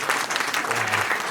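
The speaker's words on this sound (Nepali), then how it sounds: "हामी ताली बजाउँ" Applause from the congregation at a Nepali Christian wedding after the vows, a short, even patter of many hands clapping, steady and fairly close.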